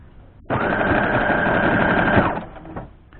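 A sewing machine stitching a quilt seam starts abruptly and runs at a fast, even whir for nearly two seconds, then stops suddenly with a small clunk afterward, close and loud with no talk.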